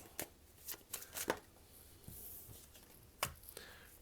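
Tarot cards being shuffled and drawn by hand, close and faint, with crisp papery riffles and slaps in irregular bursts and a quiet rustle between them.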